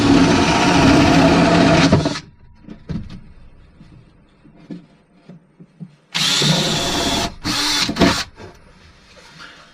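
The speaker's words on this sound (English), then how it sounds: "My drill bottomed out before I made it through the floor there" A power drill whines loudly and steadily for two seconds while drilling through a cabin floor, stops, then bursts back in with several short runs after a stretch of quiet rustling.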